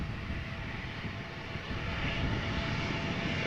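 A Delta Airbus A330 taxis to the runway threshold at Amsterdam Schiphol Airport, its engines making a continuous, fairly loud broadband roar that swells slightly toward the end, with no talking.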